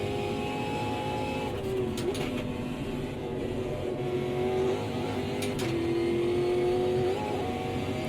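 A loose-handling race car in a sim racing game, running through a chicane, its engine droning steadily with pitch that rises and dips as it revs, plus a few brief clicks, loud and continuous with no talking.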